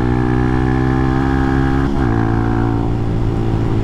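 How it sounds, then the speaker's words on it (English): A Hawk 250 motorcycle engine riding in third gear: a loud, steady, close drone with a strong buzzing tone that dips briefly midway, as if easing off the throttle, then carries on. "Third gear is very interesting on my motorcycle right now."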